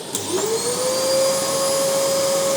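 A Philips PowerPro Max FC9750 vacuum cleaner starts up and runs steadily, its motor whine rising in pitch then holding a loud, even drone alone.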